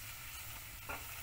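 Butter and flour fry in a pan for a roux for Swedish meatball gravy, giving a soft, steady sizzle with a brief stirring scrape near the end, close and quiet with no talk.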